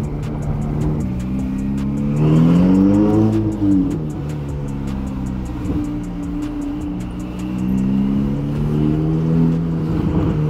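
A Stage 2 chipped Ferrari cruising through town, its engine note loud and close with a deep droning rumble that swells twice under light throttle before settling back, no talking over it.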